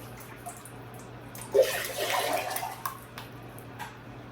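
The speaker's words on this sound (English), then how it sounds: "I simply pour in glaze." Glaze pours into a pottery piece in a short liquid splash and trickle lasting a couple of seconds, close by over a faint steady hum, with no voices.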